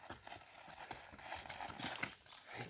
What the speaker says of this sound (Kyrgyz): Узундуктары узун чоң жылкы экен